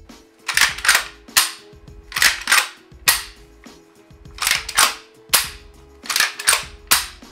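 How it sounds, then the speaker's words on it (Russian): The action of a nickel-finish Denix replica Winchester 1892 lever-action rifle is worked over and over, giving close, crisp metallic clacks in quick pairs, repeated steadily in a regular rhythm with no voices. "просто послушайте, как она работает"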